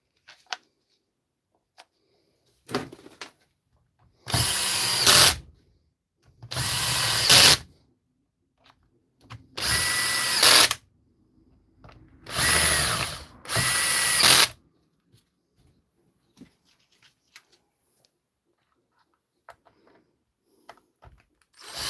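A DeWalt cordless drill under repair is test-run in five sharp bursts of a couple of seconds each, loud and close, separated by near silence and small clicks.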